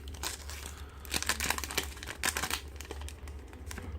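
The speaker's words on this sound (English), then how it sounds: "let's open some cards" Pokemon card packs from a Lunala GX Alola Collection box being opened, with quiet crinkling and tearing of foil wrappers in quick, irregular bursts, close by and without talk.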